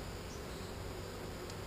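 Honeybees buzzing in a hive during a small beetle-infested colony check in the late evening, a faint, steady low hum with no voices.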